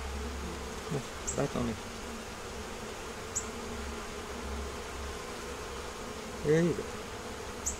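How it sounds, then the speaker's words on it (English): Bees buzzing faintly around a hive frame with a little pollen on it, a low steady drone with brief closer passes, under a few quiet spoken words. "Got a little bee down there."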